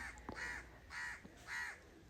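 Crows in a house yard in Sri Lanka give three loud, evenly spaced caws, clear over a quiet outdoor background.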